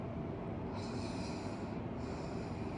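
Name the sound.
Ujjayi breathing, constricted ocean-like breath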